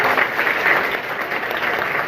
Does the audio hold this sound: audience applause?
yes